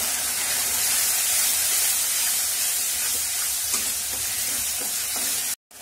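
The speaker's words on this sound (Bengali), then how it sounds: "দিয়ে দেব হলুদ গুঁড়ো, আর দিয়ে দেব নুন, দিয়ে ভালো করে কষে নেব।" Chili paste with turmeric powder and salt is sautéed in oil for a Bengali eel fish curry, giving a continuous loud sizzling hiss with faint stirring scrapes that stops abruptly near the end.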